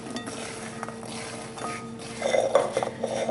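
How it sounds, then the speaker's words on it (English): A spoon scrapes and clinks against a pan while pecans are stirred to coat them, light irregular clatter that grows louder and busier toward the end, with no talk. "As I coat them all, stirring the stuff all over them"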